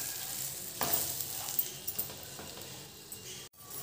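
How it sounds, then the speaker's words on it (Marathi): Green chillies being stirred with masala in an oiled pan, a soft steady sizzle under light scraping and a few faint clinks, briefly cutting out near the end. "आता तो मसाला आपण टाकायचा आहे सगळीकडे. आणि एक साईड सगळं मिरचीला लागेल असं हलवून घ्यायचं."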